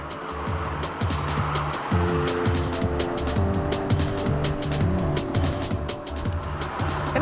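A 2000 Mercedes SLK R170 with a spongy clutch and numb throttle pulls away jerkily: the engine drones steadily close by while its pitch lurches up and down in uneven steps, with no speech over it.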